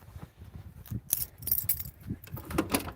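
A bunch of keys for an old hot rod jangles and clinks in several quick bursts close by, ringing metallic taps scattered irregularly over the clip.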